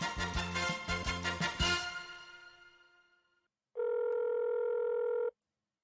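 Phone tones in an animated episode: a quick run of rhythmic dialing beeps fades away, then after a short gap a single steady electronic tone sounds for about a second and a half and stops.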